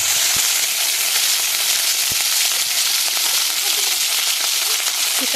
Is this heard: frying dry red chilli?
yes